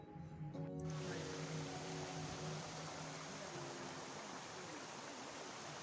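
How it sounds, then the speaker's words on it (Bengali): Waterfall on a hill trail, water crashing down in a steady broadband roar that fills the whole clip, loud and continuous with a faint tonal hum underneath early on. "এই জলের শব্দটাও মোহিত করে ফেলেছে যেন আমাকে"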